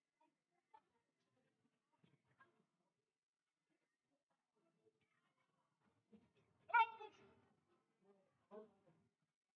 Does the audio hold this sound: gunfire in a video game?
no